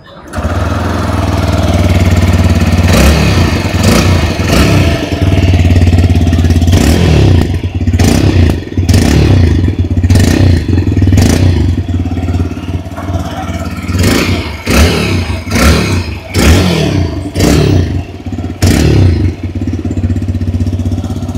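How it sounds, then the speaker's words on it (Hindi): A 2025 TVS Raider 125 Wolverine Edition motorcycle engine runs steadily, with repeated sharp throttle blips and revs rising and falling over a constant low rumble, recorded close up. "आइए अब सुन लेते हैं इस बाइक की एग्जॉस्ट नोट।"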